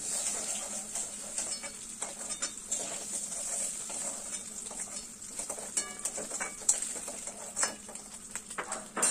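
Paneer sizzles softly in hot oil in a wok while it is stirred and lifted out, with a steady hiss of frying and light scraping taps throughout.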